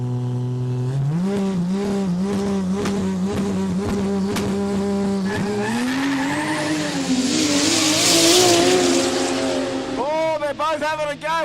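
A Toyota Supra and a Ford Cortina launch in a no prep drag race, engines revving hard in rising harmonic sweeps, then screaming past with a loud roaring burst and tire squeal before fading.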